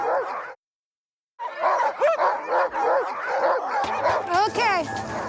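Sled dogs in the Alaska wilderness of Denali National Park bark, yip and whine eagerly at close range before mushing uphill. A sharp burst is followed by a short gap, then an overlapping chorus of excited calls while people talk.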